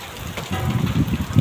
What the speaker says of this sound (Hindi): देखो कितनी तेज बारिश आ रही है,